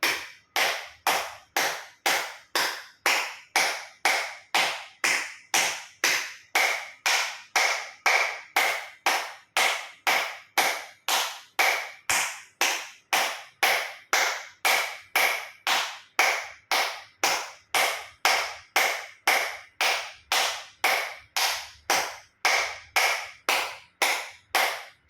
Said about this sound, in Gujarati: એક્યુપ્રેશર તાળી પૂરેપૂરા આંગળા હથેળી પૂરેપૂરું ટચ થાય રીતે 50 વખત તાળી પાડીશું